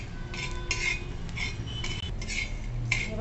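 Whole cloves, peppercorns, cinnamon and cracked black cardamom roast in a pan over low flame, with repeated scraping and clinking strokes of a spatula stirring them, quiet and close.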